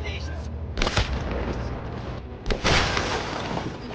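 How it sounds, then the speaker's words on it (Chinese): Sudden bursts of gunfire in a war film set in a snowy forest, two loud sharp volleys near 1 and 2.6 seconds standing out over a constant dense soundtrack rumble with voices mixed in. "突如其来的枪声让这些士兵领犯了"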